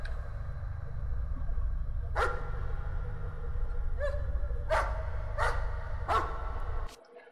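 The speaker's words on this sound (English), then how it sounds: "That's a dog." A dog barks in the Layers of Fear horror game, five or six sharp, spaced barks of middling loudness over a steady low ambient drone that cuts out at the end.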